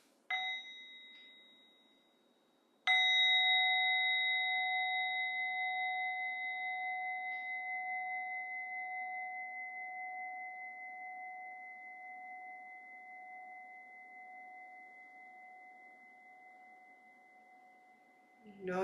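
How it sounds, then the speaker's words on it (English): Meditation bells ring in a quiet room: a brief first strike fades, then a second clear strike sustains a long, pure, slowly decaying tone for about fifteen seconds before a faint knock at the end. "Please enjoy these bells."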